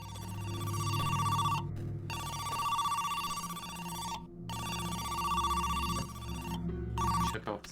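A telephone rings in the video game Who's Lila, a repeating electronic tone in bursts separated by short silent gaps, loud and steady over a low background hum.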